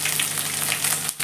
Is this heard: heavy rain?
no